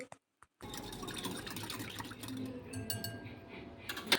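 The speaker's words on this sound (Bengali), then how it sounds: "লবণটাকে প্রথমে জলের সাথে খুব ভালো করে গুলে নিতে হবে" Salt being stirred into water in a bowl while preparing a snack dough, a close, steady wet swishing with small clinks against the container, after a brief silent start.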